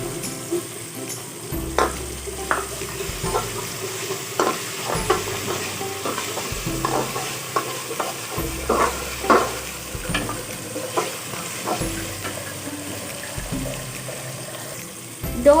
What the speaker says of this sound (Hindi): अब हम इसमें लहसुन अदरक का पेस्ट डालेंगे।